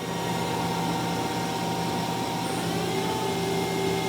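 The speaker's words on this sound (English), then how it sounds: "Run sub spindle." Sub spindle of a 2005 Mazak QTN-250MS CNC turning center spinning up, a steady whirring hum with a faint high whine that shifts pitch partway through, close and continuous with no voices.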